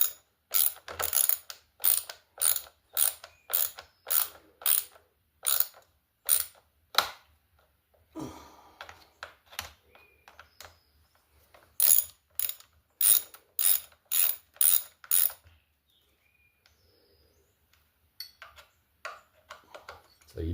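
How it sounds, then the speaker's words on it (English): A ratcheting screwdriver or wrench drives screws into the plastic mounting points of a riding mower during a transmission repair, making two long runs of rapid, close mechanical clicks separated by quieter handling sounds. "be careful, because you're literally screwing them down into plastic"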